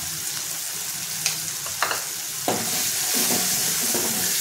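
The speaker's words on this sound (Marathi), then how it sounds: "आणि हे सर्व एकत्र छान परतून घ्यायचे" Onion paste with turmeric and masala sautés in a pan for a prawn curry, a constant close sizzle broken by a few spatula scrapes and stirs, with no voices.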